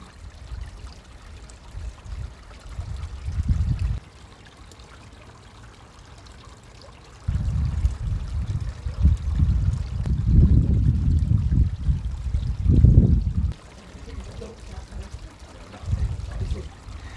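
Water poured out in steady splashing bursts onto paving slabs laid in mortar, loud and close, stopping and starting several times with short quiet gaps.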